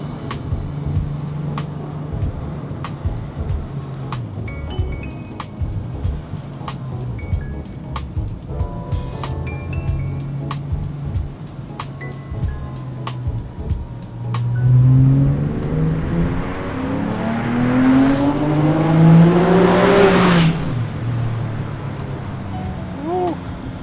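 A 412 hp 996 sports car engine with an 8,000 rpm rev package revs steadily higher, rising in pitch to a loud, strained peak before easing off, heard from inside the vehicle.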